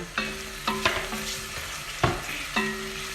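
Peppers sautéed in a pan over onions: a steady, loud sizzle of frying, broken by repeated sharp scrapes and stirring strokes every half second or so, close up with no talk.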